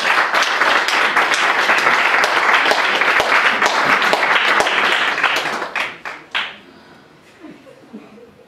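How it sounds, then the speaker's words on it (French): A congregation applauds during a church sermon, loud dense clapping that holds steady for over five seconds, then breaks into a few scattered final claps and fades to near quiet. "Applaudissons pour ce Dieu-là."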